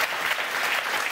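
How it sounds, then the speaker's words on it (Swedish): Studio audience applause on a live reality TV broadcast, a brief wash of steady, dense clapping with no talk over it. "En applåd!"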